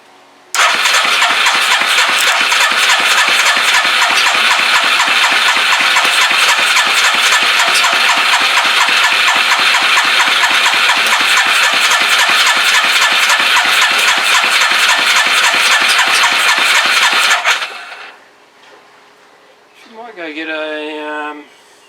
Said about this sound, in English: I'll crank it over a little bit and then I'll give her a bit of choke.